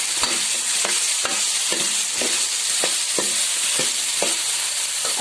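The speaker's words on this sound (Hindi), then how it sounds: "फिर साथ ही हम गाजर फ्राई करने के लिए डाल देंगे" Carrots frying in a pan for vegetable pulao, a constant bright sizzle with a spatula stirring and scraping at a steady beat, close and loud, with no talk.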